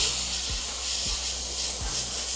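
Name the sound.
freehand airbrushing a rust effect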